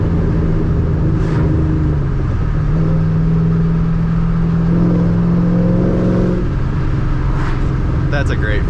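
A Ford Mustang engine idles and revs smoothly without misfiring, a steady loud rumble that rises in pitch, with a person talking over it near the end.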